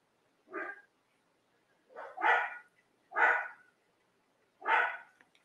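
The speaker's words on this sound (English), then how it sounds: "I don't know why they're barking" Dogs bark four times in separate bursts, one single yap then three fuller barks spaced about a second apart, moderately loud against an otherwise quiet room with no talking.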